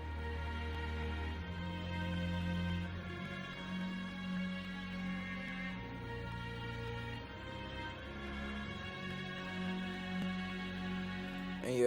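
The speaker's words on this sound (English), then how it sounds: "I had strings from Omnisphere as well" Omnisphere synth strings in a beat, soft sustained string chords with a low held bass note shifting every few seconds, steady and smooth, no voices.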